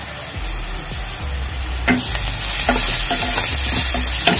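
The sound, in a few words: stirring spices in a frying pan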